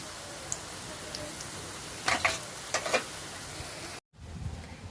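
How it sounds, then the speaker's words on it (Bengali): Snacks of raw potato and flour deep frying in oil: a constant, soft sizzle with a couple of brief bursts of louder bubbling as pieces are moved. It cuts out abruptly near the end, then resumes more quietly. "আর এরপরে আমি যতগুলো আছে একইভাবে আমি সবগুলো ভেজে তুলে নেব"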